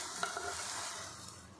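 A protein omelette fries in a wok with a soft, low, steady sizzle, faint and close, broken by a brief scrape of stirring near the start.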